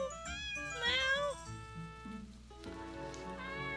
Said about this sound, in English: Oh my god, you have kittens!